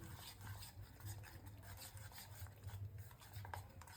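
Spoon stirring handvo batter of rice and lentils in a bowl, a soft, faint scraping and rubbing that repeats in an uneven rhythm, close by with no voices.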